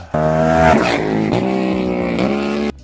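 An inline motorcycle engine revs hard with a rough, buzzy harmonic drone, rising and falling through a few throttle blips, loud and close.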